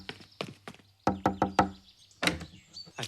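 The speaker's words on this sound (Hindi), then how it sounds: "रोहित, दरवाजा खोलो" Knuckles rap on a door in sharp, close bursts: a few spaced knocks, then a quick run of four, then more after a short pause, loud and hollow.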